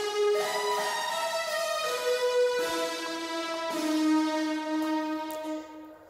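Bright, sustained synth lead built from saw waves in Vital for an FL Studio beat, playing a slow melody of long held, buzzy notes over a simple bass progression.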